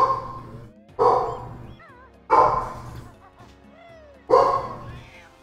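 A pet dog barks nearby, four sharp, loud barks spaced about a second apart, with softer whimpering and squeaky yips filling the gaps between them.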